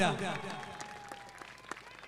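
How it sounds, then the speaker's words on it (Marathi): Spectators clap at a local cricket megafinal, Saparde versus Sonarpada, a scattered burst of applause that starts louder and tapers off, with a commentator's voice over it. "टाळ्यांचा कडकडाट होत जाऊ द्या."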